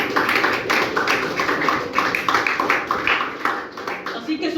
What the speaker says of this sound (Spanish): Denle una fuerte ofrenda de aplausos al Señor.